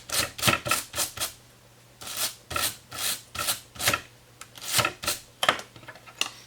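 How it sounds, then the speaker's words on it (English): A wire brush rasps over a turkey fan, scraping fat and grease from the base, in quick repeated strokes with brief pauses, close and fairly loud, no one talking. "you're going to take your wire brush, and you're just going to try to scrape that fat all out of there"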